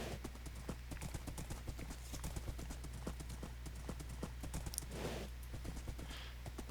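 A horse clip-clops along at a quick, even trot in Minecraft, the hoofbeats crisp and regular throughout, with a brief whooshing scrape near the middle and a faint murmur underneath.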